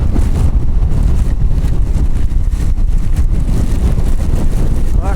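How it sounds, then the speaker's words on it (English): Strong wind buffets the microphone continuously during a rainy solo gravel bike ride, a loud, dense low roar with gusty fluctuations filling the whole stretch, with no other clear sounds standing out. "Oh, hella windy."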